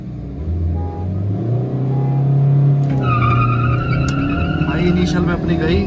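A Honda City, a Ford Aspire and a Fiat Linea in a drag race: engines rev and climb steadily through acceleration, with tires squealing near the end, under steady talk from a person nearby.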